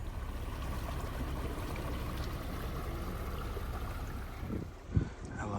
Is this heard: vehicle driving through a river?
yes